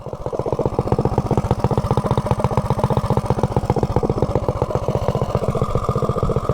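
A mini bike engine fitted with a 285 cam runs steadily at a lumpy idle, close and loud, its rapid even firing pulses thumping without pause and no talk over it.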